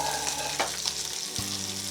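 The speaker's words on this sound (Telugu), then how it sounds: "ఆయిల్ హీట్ అయిన తర్వాత ఆనియను, కొంచెం yellow capsicum, red capsicum, green capsicum వేసుకోవాలి" Onion with yellow, red and green bell peppers frying in hot oil, a steady close sizzle with stirring clatter and a brief louder hiss partway through, no voices.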